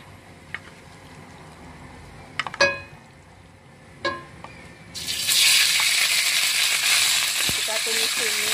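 Beef pieces go into hot oil in a wok for a stir-fry with paprika, bursting into a loud, steady broadband sizzle midway after a few clanks and knocks of the pan.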